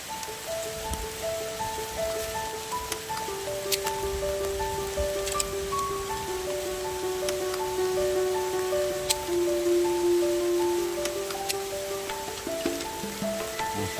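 Steady outdoor rain falls in a bamboo area, a dense continuous patter with faint tonal chirps, likely insects or birds, threaded through it.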